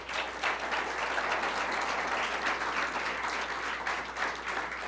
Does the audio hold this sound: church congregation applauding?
yes